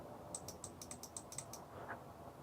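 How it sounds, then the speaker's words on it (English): A Logitech MK520 mouse left button is clicked repeatedly: about nine faint, evenly spaced, crisp clicks close by, then quiet, with no talking. "So first off, the left click,"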